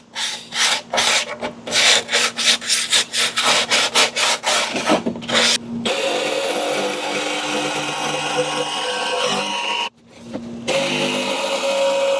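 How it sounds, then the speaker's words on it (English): Rough edges of a homemade A/C window vent for camping are sanded by hand: a run of quick rhythmic rasping strokes, then a longer continuous scraping rub with a brief pause, close and loud, with no speech. "Sand all the rough edges down where it's smooth."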